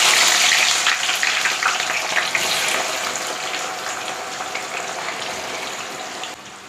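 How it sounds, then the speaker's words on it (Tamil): Sliced onions fry in hot oil for chicken dum biryani, a loud, dense, crackling sizzle close by that eases slightly over the seconds, with no talking. "இப்போ நம்ம அந்த வெங்காயத்தை போட்டு நல்ல ப்ரௌன் கலரில் ஃப்ரை பண்ணி எடுத்துக்கலாம்."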